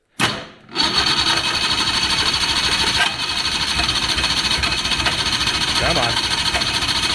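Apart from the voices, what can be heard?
1987 Pantera engine starting and idling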